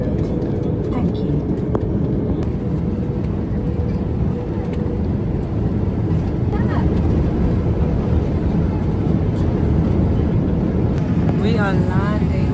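Loud, steady airplane cabin roar during landing, a broad engine and airflow rumble that holds throughout, with a few faint chimes and thin tones near the end.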